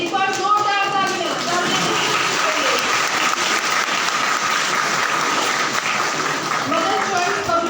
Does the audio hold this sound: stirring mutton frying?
no